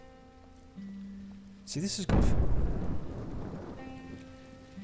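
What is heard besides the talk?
rain falling in the video game SurrounDead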